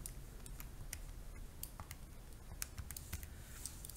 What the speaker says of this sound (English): let me type that in the calculator